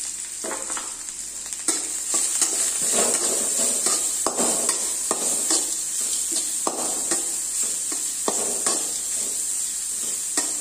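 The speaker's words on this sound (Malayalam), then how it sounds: "അതുകൂടി ഇതിലേക്ക് ഒന്ന് ഇട്ട് കൊടുത്ത് ഒരു ഗോൾഡൻ കളർ ആവുന്നിടം വരെ നമുക്കൊന്ന് ഇളക്കി കൊടുക്കാം" Crushed pepper, garlic and cumin frying in a pan for garlic rasam, a steady close sizzle with repeated scraping stirs and light utensil knocks throughout, no voices.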